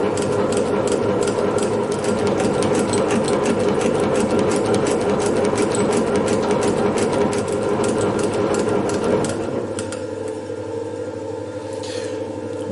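A metal shaper cuts a gear at 0.5 mm depth with a 0.2 mm step over per stroke, a loud, rapid rhythmic mechanical chatter that runs continuously and then eases into a lower steady machine hum near the end.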